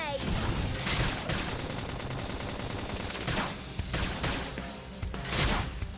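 Flame grenade attack in the Xenoblade Chronicles X video game: dense, loud bursts of explosive crackling and rapid fire-like blasts, with swells of noise recurring across the few seconds.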